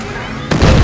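A detonated explosive charge in a video game bursts in abruptly halfway through, a loud broadband blast that rumbles on to the end after a quieter stretch of game ambience.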